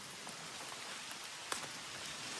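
Rain falling around a mango tree, a steady soft patter and hiss of drops, fairly faint and even throughout, with one brief sharper knock partway through.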